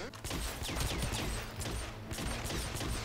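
Rapid bursts of gunfire crackle through a chaotic scene in the video game Hitman, a fairly quiet, dense volley of shots with mechanical clicks, heard alone without talk.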